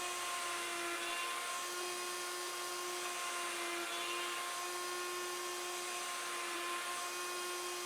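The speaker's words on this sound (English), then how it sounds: "Now I'm using the same jig to cut the mortises in the leg." A router-type power tool guided by a jig cuts mortises into a wooden leg for a hexagonal table, a loud, steady high-pitched whine running continuously with no talk.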